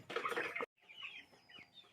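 Chickens on a small poultry farm give soft, fairly quiet clucks and calls while feeding, after a short silent break at the start.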